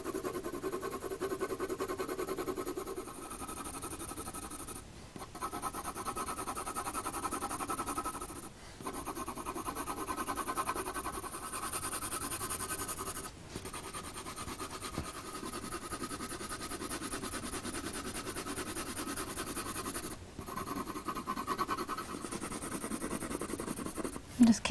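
Olive green coloured pencil hatches on paper in choppy, scribbly strokes using the side of the lead, a continuous close scratchy rasp broken by short pauses over a long stretch, with faint talk in the background.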